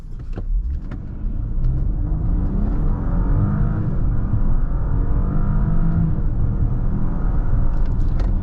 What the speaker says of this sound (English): let's see what 0 to 60 is on here